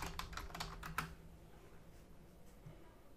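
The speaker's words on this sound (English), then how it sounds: "And enter George's password" A short burst of rapid clicks as a password is typed on a computer keyboard, about eight quick keystrokes close to the microphone, then quiet room tone.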